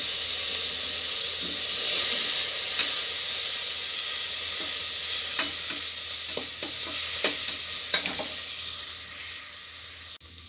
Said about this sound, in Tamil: இப்போ இந்த டைமில் தக்காளி பழத்தையும் நம்ம அது கூடவே சேர்த்துடலாம் நல்லா வதங்கிச்சுன்னா நம்மளுக்கு நல்லாயிருக்கும்